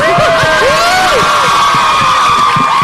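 A crowd greets a cast member of Pretty Little Liars coming out on stage with loud, continuous cheering, whoops and screams close by, and the shouting dominates throughout.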